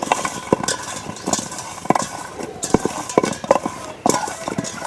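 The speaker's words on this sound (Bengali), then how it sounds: "আমি হাত দিয়ে সুন্দর করে আগে মেখে নেব" Whole hog plums are mixed by hand with salt, chili powder and turmeric in a bowl, giving irregular squishing, rattling knocks and scrapes at close range, with a low engine-like hum running underneath.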